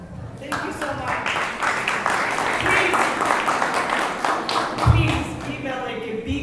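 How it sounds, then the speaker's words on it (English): An audience claps at the opening ceremony of a democracy center, loud sustained applause with some heavier thumps, while voices talk over it. "Please give a big applause to the Valeria"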